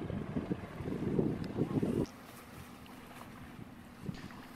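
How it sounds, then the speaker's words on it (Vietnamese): A wooden Quang Ngai boat speeds across the sea off Phu Quy island, its engine and rushing water a loud, wind-buffeted roar that suddenly falls to a quieter steady hiss partway through. "Chiếc ghe đang có tăng tốc với tốc độ khá là nhanh"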